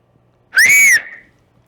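A single loud, piercing two-finger whistle, sharp and close, lasting about half a second and then trailing off quickly.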